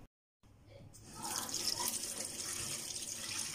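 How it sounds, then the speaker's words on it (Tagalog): Tap water runs into a sink as raw chicken is washed, starting after a brief silence as a steady, soft splashing flow that continues to the end. "huhugasan ko muna itong chicken."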